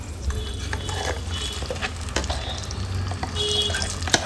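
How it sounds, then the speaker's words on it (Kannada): Ground bitter lime paste and garlic sizzle steadily in a pan, with continuous stirring scrapes and soft bubbling close by, no talking. "ಈ ಹದದಲ್ಲಿ ಬೆಳ್ಳುಳ್ಳಿ ಫ್ರೈ ಆದಾಗ ರುಬ್ಬಿಟ್ಕೊಂಡ ಎಳ್ಳಿಕಾಯಿ ಪೇಸ್ಟ್ ಅನ್ನು ಸೇರಿಸ್ಕೊಳ್ಬೇಕು"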